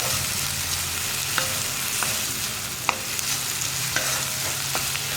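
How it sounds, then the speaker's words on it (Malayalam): Chopped onions sizzle steadily in a hot pan for a tomato potato curry, with a continuous frying hiss and occasional sharp scrapes and taps of a spoon stirring against the pan. "ഇനിയിപ്പോൾ സവോള ഒന്ന് കളറ് മാറി വരുന്നത് വരെ ഇളക്കി കൊടുക്കുക."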